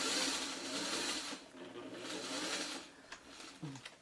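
Sewing machine stitching a palm-leaves quilt pattern, a steady fast mechanical whir that runs for about three seconds, then stops with a few light clicks.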